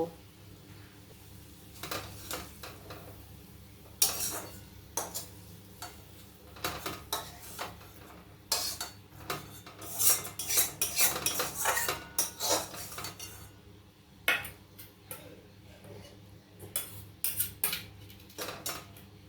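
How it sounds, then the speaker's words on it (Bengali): Metal spoon scraping and clinking against a pot and serving bowl while snail curry is transferred, irregular close clatters and scrapes over a low steady hum. "একটা পাত্রে নামিয়ে নেব।"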